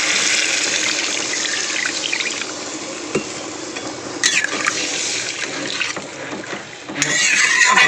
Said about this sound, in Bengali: আমি এবার দিয়ে দেবো জল।